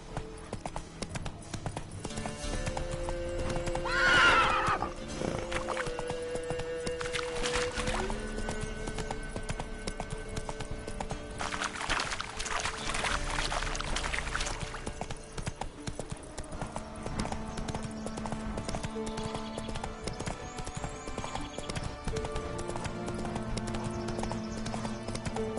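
Horse hooves clip-clop on the ground while a rider travels through the world of the video game The Witcher, with a steady, moderately close rhythm over an ambient game background. A short whinny-like sound rises briefly near the start.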